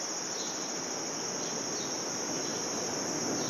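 Dense, continuous high-pitched chirping of crickets at the Duck Pond in Central Park in the early morning, a steady shimmering drone with no talking.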